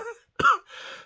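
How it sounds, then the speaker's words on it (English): A single person coughs up close while coming down with a cold, a short throat-clearing burst followed by a sharp cough and a breathy exhale, alone in a quiet room. "I'm about to have a coughing fit"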